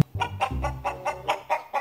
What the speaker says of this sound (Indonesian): Tiba-tiba ada seekor ayam betina yang ingin bertelur.